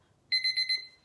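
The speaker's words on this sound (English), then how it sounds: "That's my alarm telling me I'm over time." An alarm goes off with a bright, piercing electronic tone pulsing in three or four quick bursts, close and loud against a quiet room, with no talk over it.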